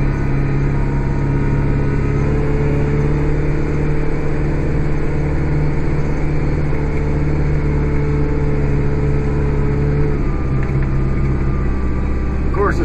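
A Kubota 5740 tractor engine runs at a steady, constant drone on an evening outdoors. The sound stays loud and close, with no changes in pace.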